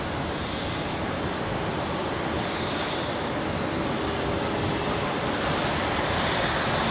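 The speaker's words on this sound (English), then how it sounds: "we've got the Jetstar 321 Neo just lining up" Jetstar Airbus A321neo lining up for departure at Brisbane International Airport, a constant broad engine rumble and hiss mixed with wind noise, steady and fairly loud, with no voices.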